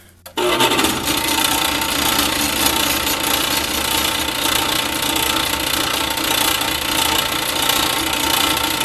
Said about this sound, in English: Plug the lathe back in.